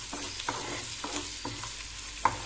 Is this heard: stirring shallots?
yes